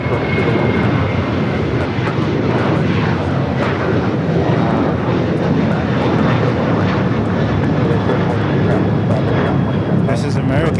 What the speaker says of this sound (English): This is American 3016 going to Puerto Vallarta, 8-year-old Boeing 737-800.